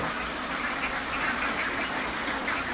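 Khaki Campbell and Jinding Campbell ducks raised for eggs quack in a flock, a continuous chorus of nasal calls close by.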